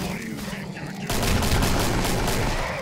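Gunfire in a competitive video game match, a quieter stretch with a voice over it giving way to a dense, loud burst of rapid continuous shots that fills the rest.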